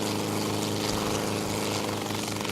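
A steady helicopter engine drones loudly and continuously, its rotor thrumming in an even pulse throughout.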